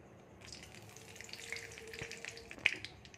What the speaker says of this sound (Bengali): এবার আমরা এর মধ্যে দিয়ে দেবো তেজপাতা আর শুকনো লঙ্কা ফোড়ন।